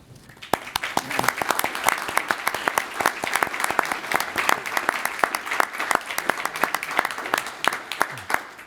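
A room full of people claps steadily for military veterans standing up at a county fiscal court meeting, a dense, sustained round of applause with sharp individual claps, close and continuous throughout.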